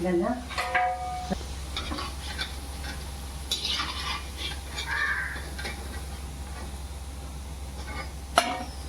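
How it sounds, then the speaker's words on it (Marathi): Sabudana and potato wadi frying in oil on a low flame, a gentle steady sizzle under a low hum, with crows cawing in the background and an occasional utensil clink. "बारीक गॅस ठेवायची आणि मस्तपैकी असं तळून घ्यायचे"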